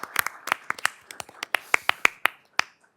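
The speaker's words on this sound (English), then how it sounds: "Round of applause for Rawan." A few people at a township board of trustees meeting keep applauding an honoree with sparse, sharp individual claps that thin out and stop near the end.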